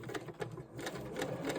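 A sewing machine stitches a skirt pocket seam on a long stitch length, a quiet rapid mechanical chatter with rhythmic pulses, close and alone.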